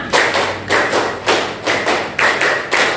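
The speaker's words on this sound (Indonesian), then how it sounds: "Tepuk tangan." A fourth-grade elementary class claps hands in unison, six or seven sharp, rhythmic group claps spaced roughly half a second apart, close and loud with no talking.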